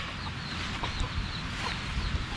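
Soft, scattered clucks from a hungry chicken at a fish pond farm come in brief bursts over a low, steady background hum.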